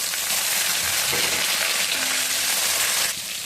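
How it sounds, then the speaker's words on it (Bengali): Chopped tomatoes hit hot oil over fried chopped green chilies while cooking vegetarian moong dal, giving a dense, close, continuous sizzle that eases slightly near the end. "এবারে ছেড়ে দিচ্ছি কুচি করা টমেটো"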